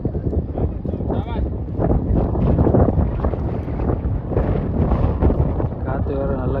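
A strong wind blows across a cricket ground at a friendly match in Qatar, roaring and buffeting the microphone loudly and continuously while someone talks over it throughout.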